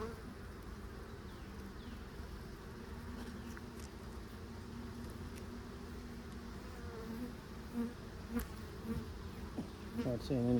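Honeybees buzz steadily throughout an open hive inspection, a dense continuous hum close by that swells slightly toward the end, with no talking.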